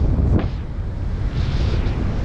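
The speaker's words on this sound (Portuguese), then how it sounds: "E aqui eu tô contra o vento, vai estar mais cansativo." Strong wind buffets a beach in Bahia at high tide, a steady loud roar with low rumble throughout, broken by brief gusts, with no talking.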